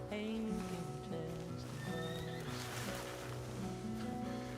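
A horse in a ranch roleplay video game neighs and whinnies, with hoof clip-clop and a wash of waves or ambient game sound behind it.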